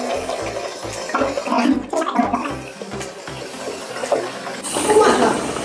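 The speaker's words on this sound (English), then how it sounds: "So now let's go and fill up some water." Water pours steadily into the refill tank of a Philips PerfectCare Expert Plus steam generator iron, a continuous splashing and gurgling close by, with voices speaking over it.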